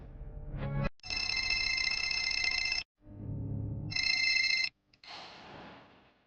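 A phone call goes out and rings in a loud electronic ringback pattern, two long sustained tonal bursts separated by short gaps, with a brief dial-like blip before the first and a fading tail after the second.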